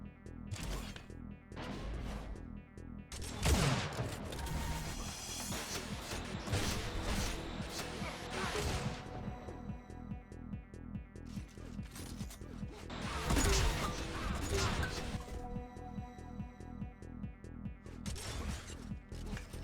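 Rapid weapon fire from the Link gun in an Unreal Tournament competitive match, a dense continuous stream of loud mechanical bursts and crashes layered with other in-game effects throughout.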